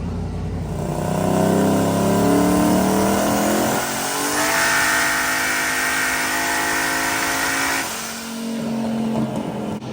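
A boosted, purpose-built drag-and-drive car accelerates hard on a run, its engine howling loudly and climbing steadily through the revs with two distinct upshifts before the note drops off near the end.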